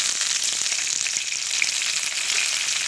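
Crushed and whole garlic cloves sauté with curry leaves in hot oil, making a loud, dense, unbroken sizzle that holds steady throughout with no voices.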